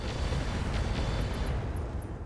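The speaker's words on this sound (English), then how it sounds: "We'll go ahead and fire the MRMs." A volley of MRM missiles slams into an Atlas mech in the RogueTech BattleTech game, a loud, dense roar of overlapping blasts with sharp pops on top, holding steady for about two seconds.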